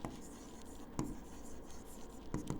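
Chalk or marker scratching on a board during a Class 10 trigonometry lesson, a few short strokes at a steady distance over a low room hum, with no talk.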